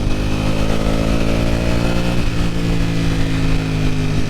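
A Ducati Panigale V4 accelerates at half throttle. The engine sounds like a loud, close, continuous mechanical growl, with harmonics rising steadily in pitch, a brief shift-like dip midway, then climbing again.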